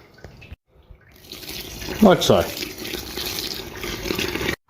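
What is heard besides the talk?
pouring hot sparge water over the grain while homebrewing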